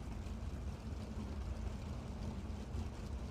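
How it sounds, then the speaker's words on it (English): Powerful 410 sprint car engines rumble in an iRacing sim race, a dense, steady low drone of several engines blending together without pause, with no voices on top. "Those 410 engines, man, they just have that rumble."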